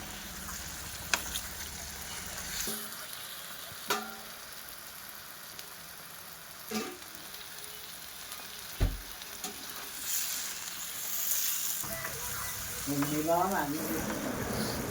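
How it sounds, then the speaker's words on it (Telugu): Tomato pickle fries in oil with a constant close sizzle, broken by occasional spoon scrapes and stirring knocks against the pan; a voice joins briefly near the end. "బాగా వేయించుకొని ఇట్లా నూనె రిలీజ్ అయ్యేంత వరకు వేయించుకోవాలి."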